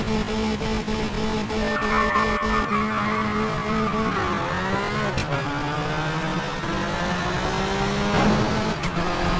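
Race cars launch from the start in Toca Race Driver 3 on PS2, engines revving and rising in pitch with overlapping whines, brief tire squeals and gear shifts, moderately loud with no voices.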